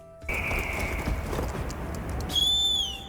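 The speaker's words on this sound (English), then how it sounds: "Yep, you whistle for them." In Monster Hunter Wilds, a short, sharp whistle to call a bird mount rings out near the end over steady outdoor game ambience, following a fainter sustained tone earlier.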